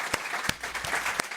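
Studio audience on a French talk show claps in a fairly quiet, uneven patter, with a few sharper individual claps standing out near the front.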